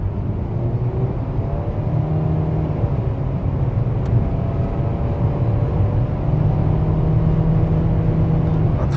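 A Renault Samsung SM7 running on LPG and fitted with a non-powered turbo and aftermarket intake and exhaust parts accelerates hard past 140 km/h, its engine drone rising in pitch under loud steady road and wind noise.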